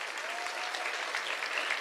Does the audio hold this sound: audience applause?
yes